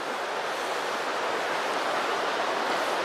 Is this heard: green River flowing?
yes